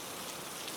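Steady rain falls in a dense, even hiss with no distinct drops standing out, continuous and soft across a brief moment.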